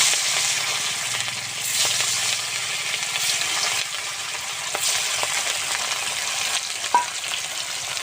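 Rohu fish pieces frying in hot mustard oil in a kadai: a continuous bright sizzle and crackle, close and steady, with small spatters and occasional utensil clinks, no talk.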